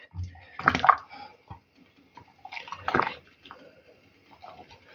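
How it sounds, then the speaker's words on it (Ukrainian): Hot water is poured from a pot over cleaned peppers in two short splashing bursts, close and fairly quiet, with a few faint drips and trickles between them. "І буду закидати тут воду, хай трошечки обійде гарячою водою перчик."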